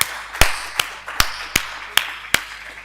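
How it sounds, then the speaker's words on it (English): Six sharp, evenly spaced claps ring out alone at an inaugural conference session, each a distinct loud hand strike about every 0.4 seconds, more like one person clapping than a full crowd. "Give them a hand, yeah."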